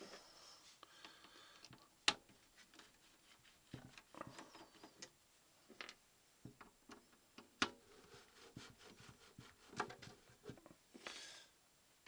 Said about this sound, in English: It's just a case of spin these screws out.